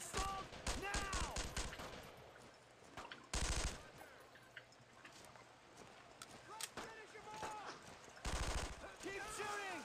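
Gunfire in the World War II shooter Brothers in Arms: Road to Hill 30 on the original Xbox, with bursts of rapid automatic fire at about 3.5 and 8.5 seconds among scattered shots, as voices call out between the volleys.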